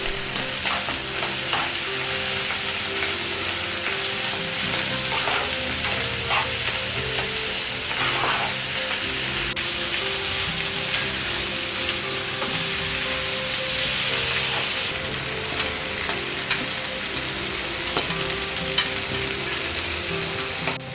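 A scrambled egg and mushroom dish fries with a steady, close sizzle as tomato paste is stirred through it, the crackle continuous and fairly loud with faint scraping of the spoon and no voices.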